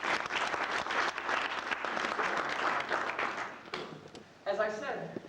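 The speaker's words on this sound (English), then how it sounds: "Give yourself a big round of applause." A room full of people breaks into sustained applause, a broad steady clatter of clapping that fades out into someone speaking alone at the end.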